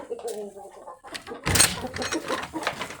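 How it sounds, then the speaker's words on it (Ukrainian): Chickens cluck and chatter nearby in a busy flock at feeding time, with a burst of scuffling and flapping midway and a person calling to them over the sound. "Ідемо кормити наших курчат."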